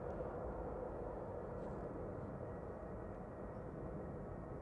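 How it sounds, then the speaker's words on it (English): An Aer Lingus ATR 72 turboprop at Manchester Airport gives a steady, distant droning rumble that holds at an even level throughout, with no voices. "so noisy prop departure coming up."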